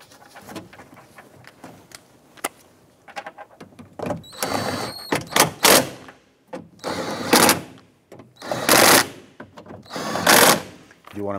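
A power tool runs bolts into a 2007-2012 Nissan rear door during replacement of the power window motor and regulator: several short, close whirring bursts follow quieter clinks and handling noise.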